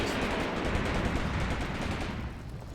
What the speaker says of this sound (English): Machine gun is blowing bits.